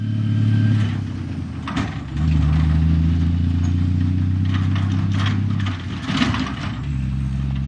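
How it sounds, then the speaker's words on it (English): A delivery truck's engine idles and revs in the foreground, its low drone shifting pitch several times with brief dips and surges as the throttle changes, heard alone without talk. "Delivery truck."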